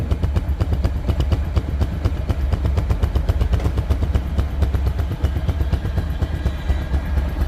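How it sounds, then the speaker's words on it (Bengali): A 2024 TVS Stryker motorcycle runs with a steady, rapid engine putter and mechanical clatter, close and even in level, with no voices over it. "রানিং অবস্থায় গাড়িটির সাউন্ড শুনুন।"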